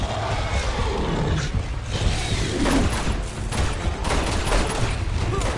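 Bursts of gunfire and roaring action noise from the video game Uncharted 2: Among Thieves, loud and dense with rapid shots and clattering impacts layered over a constant booming game soundtrack.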